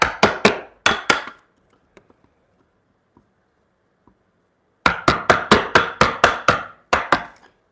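A steel chisel is driven by a wooden mallet in a hand-tool woodworking shop, a quick run of sharp, loud knocks, then a pause with faint taps, then another steady burst of close blows.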